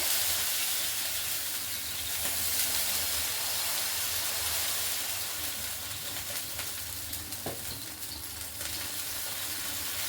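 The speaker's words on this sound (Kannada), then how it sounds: "ಅದಕ್ಕೆ ಒಂದು ಸ್ವಲ್ಪ ನೀರನ್ನು ಹಾಕಿ ಕೂಲ್ ಮಾಡ್ಕೋಬೇಕು" Water sprinkled onto a very hot dosa pan gives a loud continuous sizzling hiss with steam, broad and steady, easing slightly toward the end.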